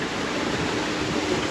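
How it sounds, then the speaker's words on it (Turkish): Strong wind rushes over open sea during a South Atlantic storm, a steady, close roar of gusts and surf with no break and no voices. "Bu arada rüzgar 30 falan esiyor şu an"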